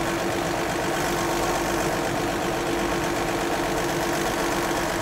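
Tractor engine drones steadily while driving across a field spreading liquid fertilizer in pulses, a continuous near mid-low rumble with no talk throughout.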